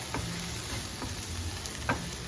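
Okra with pepper powder being stirred in a hot pan: a low, steady sizzle with a few soft scrapes and taps from the spoon, fairly quiet and with no talking.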